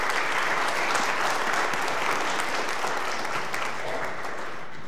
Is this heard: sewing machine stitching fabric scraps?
no